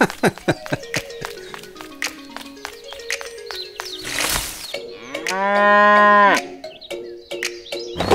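Cows moo loudly nearby, several long, drawn-out calls, with one especially big bellow in the middle, interspersed with clicks and knocks.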